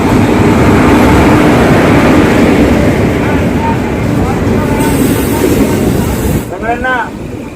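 A steady, loud rumble and rattle fills a general second-sitting coach of the Prashanti Express while the train runs. Voices surface briefly near the end.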